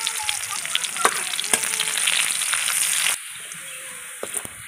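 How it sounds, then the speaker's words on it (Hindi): Chopped onion sizzles loudly in hot oil, a constant crackling fry with occasional sharp pops and stirring clatter, then the sizzle drops abruptly to a quieter, steadier hiss. "तेल गरम हो गला, प्याज कटा दबा,"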